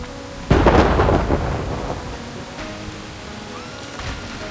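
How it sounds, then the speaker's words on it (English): Thunderstorm rumbling with a sudden loud thunder crack that rolls and fades over several seconds, with rain hissing steadily underneath and no voices. "What kind of storm is this?"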